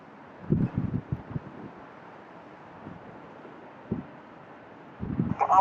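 Gusty heavy wind and rain buffet the microphone as an Airbus A321 lands at Chicago O'Hare, coming in low rumbling bursts at the start, in the middle and toward the end over a steady background roar.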